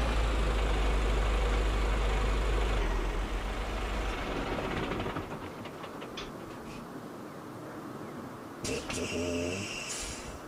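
A truck engine idles in Euro Truck Simulator 2 with the Kirchenbaum sound mod, a low steady rumble that fades and thins, followed near the end by a sharp burst of air hissing.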